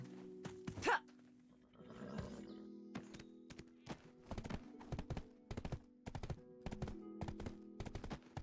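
Horse hooves in the online role-playing game Black Desert Online, a steady run of clip-clop steps repeating regularly through most of the stretch, fairly quiet, after a brief whinny-like burst near the start.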